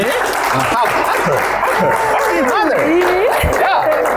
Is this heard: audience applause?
yes